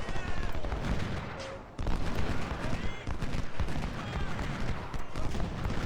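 Massed gunfire from battle in the Civil War strategy game Ultimate General: Civil War, a dense continuous crackle of rifle volleys and booming shots, loud and unbroken apart from a brief dip.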